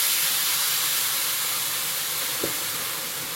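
Water hits a hot pan while cooking a fish curry and bursts into a loud, steady broadband sizzle and steam hiss that fills the whole stretch, close and continuous, with one faint knock partway through.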